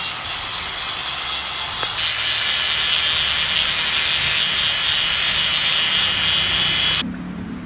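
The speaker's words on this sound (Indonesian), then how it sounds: "Lagi di gerinda sama Komang." An angle grinder runs at a motocross workshop, a loud, steady, harsh grinding that holds for about seven seconds before cutting off abruptly.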